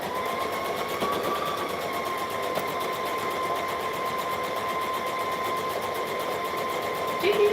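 A continuous steady whir from a sewing machine stitching a collar band onto the top of a dress, with rapid needle chatter and a faint tonal hum, close and unbroken for several seconds.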